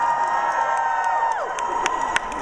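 A comic con Q&A audience cheers and shouts together, a sustained loud crowd roar with high whoops and whistles throughout.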